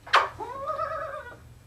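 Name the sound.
cat meowing in response to yodel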